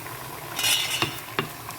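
Onions and dried red chillies with fennel and fenugreek sautéing in a pan for a jackfruit-seed curry, a soft sizzle under a couple of sharp spoon scrapes and clinks, close and alone.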